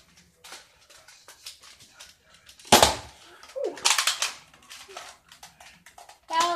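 A gun fired at a target: a sharp loud report near the middle followed by bursts of impact and clatter, with a dog whimpering and rustling in the background.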